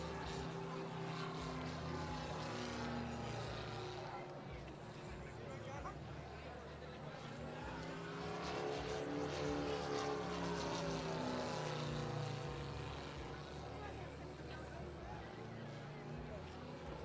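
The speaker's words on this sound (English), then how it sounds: "That lovely sound of the radial engine, absolutely on tune" A radial-engine propeller aeroplane flies at an airshow, a steady droning hum swelling and fading as it passes at moderate distance, with a voice talking over it.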